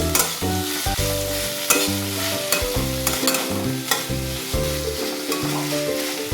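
Onions for Bengali piyaj posto frying over a moderate flame in a pan, with a continuous sizzle and a rhythmic series of spatula scrapes and knocks, loud and close, no talking.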